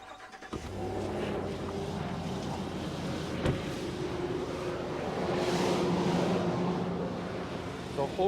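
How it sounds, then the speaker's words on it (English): A boat or vehicle engine idles steadily after starting, a low continuous hum with a constant drone that swells slightly toward the end. "I'm going to go start the engine"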